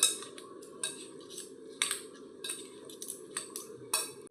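Salad with chia seeds being mixed in a bowl, a run of light clinks and scrapes from a spoon against the bowl coming in irregular bursts, close up with no talking.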